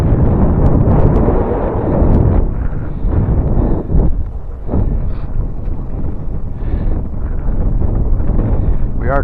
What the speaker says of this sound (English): We are kind of riding into the wind now, what little bit of wind there is.